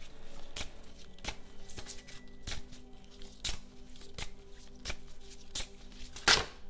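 Tarot cards being shuffled by hand in a quiet room, with a series of sharp, regular card riffs and snaps against a faint steady hum, ending in a brighter flutter of cards.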